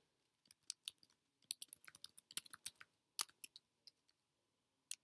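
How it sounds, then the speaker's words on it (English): Computer mouse clicking at a desk, a quick irregular run of sharp, close, fairly loud clicks with short pauses and a few isolated clicks near the end. "Sorry for the clicking. It sounds loud, I know."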